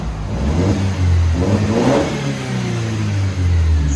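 A 2015 Mercedes C250 turbo with a muffler and resonator delete revs loud and close, its raspy exhaust rising and falling in two or three throttle blips over a steady rumble, with no voices.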